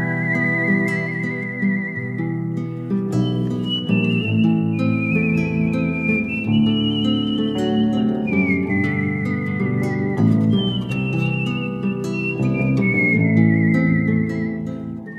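A clear, high whistled melody carries over a warm instrumental backing, the notes sliding and sustained in a relaxed tune.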